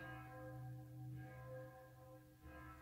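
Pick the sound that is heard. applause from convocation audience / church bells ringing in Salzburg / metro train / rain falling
church bells ringing in Salzburg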